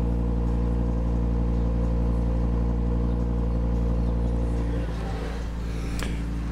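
A five-cylinder turbo engine of a car at Wörthersee idles with a deep, steady exhaust rumble, close and loud, then shifts in tone near the end as it is revved.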